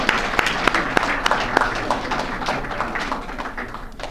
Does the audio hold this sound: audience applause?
yes